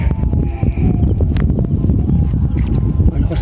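Strong wind buffets a small fishing boat at sea, a loud constant roar of gusts and microphone rumble with water sloshing against the hull.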